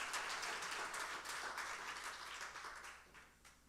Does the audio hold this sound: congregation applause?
yes